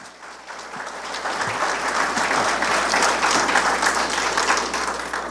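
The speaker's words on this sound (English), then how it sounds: "Before we end tonight, I just want to ask again for a round of applause for Matt Holzaffel" Applause at a city council meeting, a room of people clapping steadily that swells after a brief start and holds a dense, fairly loud patter to the end.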